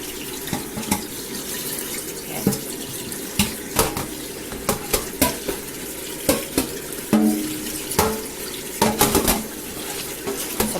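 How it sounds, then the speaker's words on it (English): Cold tap water runs steadily over fresh string beans in a kitchen sink, with repeated clicks and clatters as the beans are handled and shifted throughout. "Let that run up under the cold water for a while."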